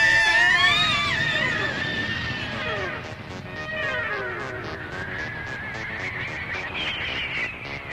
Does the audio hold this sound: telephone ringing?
no